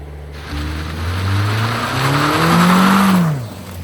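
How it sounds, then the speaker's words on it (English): A car does a burnout, its engine revving up in a rising, loud roar with broadband tire and exhaust noise swelling over several seconds before easing off. "I'm ripping the first burnout in this car"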